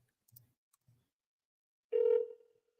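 A telephone sounds a single steady tone lasting about half a second while a call is being placed, after a few faint clicks, then quiet.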